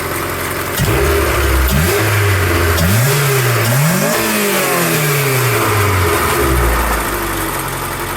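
A nearby Honda engine with an OBD0 multi-port fuel injection conversion, no intake or air filter fitted, is revved repeatedly, pitch climbing and falling in several rising sweeps over a steady idle, loud and close.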